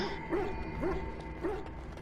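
A dog in the video game Dragon Age: Origins gives three short whimpering yips at even intervals, fairly faint over steady ambient game music.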